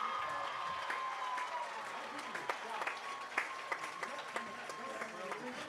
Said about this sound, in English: Please join me applauding for Miss Bailey as she is crowned by Miss Kendall Petit.